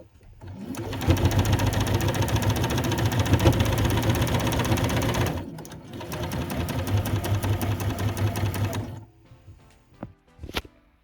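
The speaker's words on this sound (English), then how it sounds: "And next, my pairs are sewn into fours." A sewing machine stitching quilt pieces together in two long, fast, steady runs of rattling mechanical hum, separated by a short pause, ending with a few faint clicks and taps.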